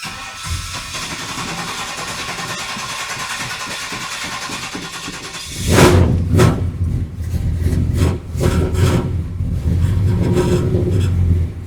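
An engine is cranked over for a long, steady stretch, then catches and fires up into loud, uneven running with revving bursts, close by, a loose muffler rattling along with it.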